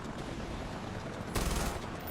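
A continuous burst of auto-aimed gunfire from a Far Cry 4 prison escape fight, a dense rattling stream with a louder surge near the end, close and without talk.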